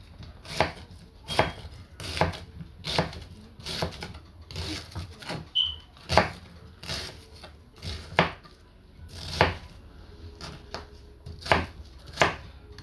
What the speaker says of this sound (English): Now I'm dicing my onion.